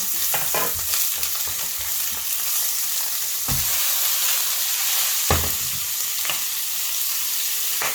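Potatoes fry in a pan with onion and chopped bacon, giving a steady loud sizzle with repeated sharp scrapes and clacks as the food is stirred.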